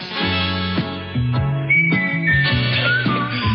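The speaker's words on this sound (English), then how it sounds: "He does the whistling himself" Someone whistles a tune, clear melodic notes rising and sliding over a stepped accompanying melody, close and fairly loud.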